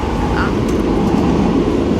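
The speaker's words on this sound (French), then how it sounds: "On est dans le RER" Steady, loud rumble and hiss of a moving Paris RER A suburban train heard from inside the carriage, a continuous broadband roar with no speech over it.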